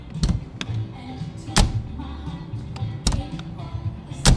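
The doors of a bare-metal restored classic car are shut several times, each giving a solid, low thunk that stands alone, spaced about every second and a half, close by.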